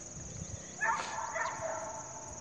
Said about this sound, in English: That's him barking now.